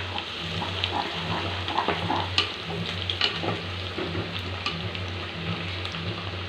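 Onions and green chillies sautéing in oil give a dense, steady frying sizzle up close, broken by light occasional stirring scrapes and clicks, with no one speaking.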